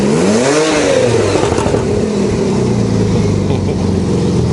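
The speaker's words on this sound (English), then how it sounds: "then you put her in sport, the valves open up" A 2015 Porsche GTS in sport mode with its exhaust valves open revs loudly, the engine note swooping up and settling into a rough, rumbling idle close by.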